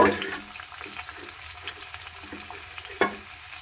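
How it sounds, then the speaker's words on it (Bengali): Egg-coated pieces fry in hot white oil in a wok (kadai), a soft steady sizzle and crackle with occasional stirring knocks, close and moderately quiet, with no speech. "গরম তেলে দিয়ে ওটা একটু সামান্য নুন দিয়েছি এবার ভাজতে থাকবো যতক্ষণ না ভাজা হবে"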